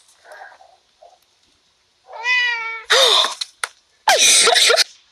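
A cat meows loudly and close by in several drawn-out calls, with brief faint sounds between them.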